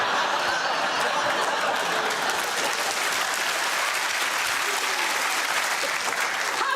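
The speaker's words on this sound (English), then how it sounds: "I just don't understand the applause of recognition from the audience" A studio audience at a comedy panel quiz show breaks into steady, loud applause mixed with a few chuckles, sustained evenly throughout.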